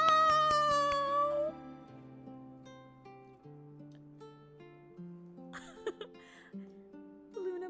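A cat named Luna meows in a long, drawn-out cry at the start, followed by quieter tonal sounds and a few short, sharp noises near the end, all close and clear.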